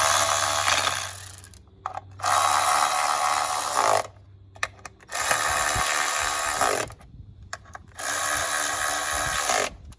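A ratchet tightens the 10 mm valve cover bolts on a Toyota Camry. Several bursts of fast, buzzing ratcheting, each about two seconds long, are separated by short pauses. The tool is close up and there is no speech.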